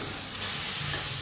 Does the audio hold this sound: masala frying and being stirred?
yes